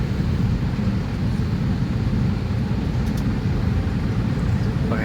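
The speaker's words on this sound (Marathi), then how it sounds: "हे पुणे इंटरनॅशनल एअरपोर्टवरती आपले विमान आता निघत आहे" A passenger jet departing Pune International Airport gives a steady, loud low engine roar that holds evenly throughout with no pauses, heard from close by.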